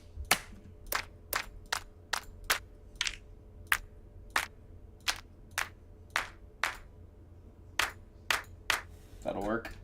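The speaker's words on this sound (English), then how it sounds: "A trap clap." A sharp trap-style clap sample for dubstep production repeats about twenty times in an irregular programmed pattern, each hit crisp and close, with a faint hum underneath.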